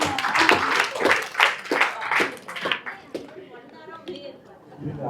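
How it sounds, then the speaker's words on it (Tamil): An audience at a digital marketing talk claps in loose, uneven bursts for a few seconds before the clapping thins out and a voice carries on alone. "கைத்தட்டல் கொடுங்க."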